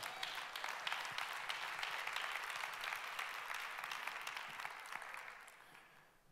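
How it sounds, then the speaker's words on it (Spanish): Audience applause, soft and somewhat distant, with many hands clapping in a dense, even wash that gradually fades away toward the end. "Date un aplauso."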